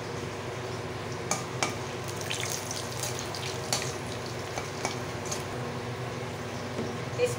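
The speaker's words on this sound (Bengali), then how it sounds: "তেজপাতা শুকনো লঙ্কা দিয়ে দেব, দিয়ে দিচ্ছি গোটা জিরে।" Whole bay leaf, dried chilli and cumin seeds fry in hot oil for a Bengali prawn pulao, giving a steady close sizzle with occasional light clinks and stirring.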